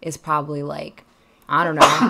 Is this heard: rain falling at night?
no